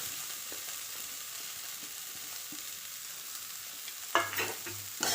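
Carrot, green chili and onion stir-fried for street-style fried rice over a low flame, a quiet steady sizzle with a few soft stirring scrapes, then louder clatters of the utensil near the end.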